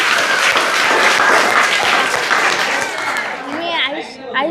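An audience at a school function applauds loudly and steadily, with the clapping trailing off near the end as a voice rises over it.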